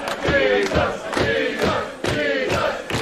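A wrestling crowd at a Progress Wrestling match roars and shouts in rolling waves, punctuated by sharp thuds from the ring, loud and close with chanting swells.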